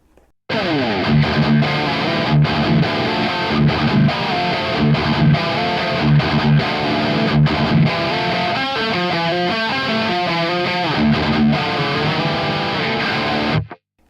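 Electric guitar riffs through the crisp, dry channel of a Victory VX Kraken MkII amp with slight grit, steady chugging chords and quick stops, played alone for about thirteen seconds.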